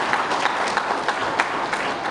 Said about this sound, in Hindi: और एक बार ताली बजाओ जिला अध्यक्षों के लिए